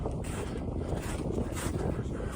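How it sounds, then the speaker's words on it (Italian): Strong wind roars steadily across the microphone on a mountain ridge near a 2232 m summit, a dense, buffeting rush with no pauses. "Ovviamente tira un vento non indifferente"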